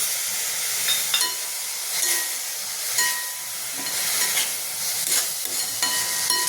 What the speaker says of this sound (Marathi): याच्यात आपण अर्धी वाटी दूध टाकून देऊ।